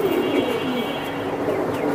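Domestic pigeons at a bird seller's stall coo continuously in soft, overlapping throaty calls, several birds close by with no voices over them.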